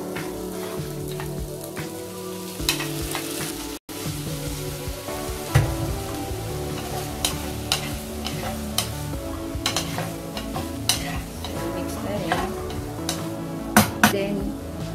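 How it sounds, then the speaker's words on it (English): Shrimp fry with garlic in a hot pan, giving a steady loud sizzle with frequent clacks of a utensil stirring. It is close by, and a voice is faintly present at times. "And then I will now add in our shrimp."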